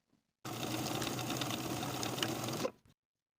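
A sewing machine runs in one steady burst of about two seconds, zigzag stitching the overlapped short ends of an elastic waistband together, fairly close and alone with no talk.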